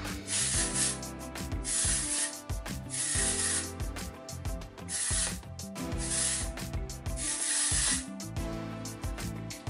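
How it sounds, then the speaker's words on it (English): Hair texture spray is misted in repeated bursts over straight hair ends, each hiss close and fairly loud, broken by short pauses and rubbing of hands through the hair, with no talking. "So what I'm gonna do is spray that throughout all my ends."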